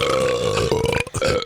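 One long, loud, close burp rolls on for over a second, given as a salute to a pizza place closing in Valley City.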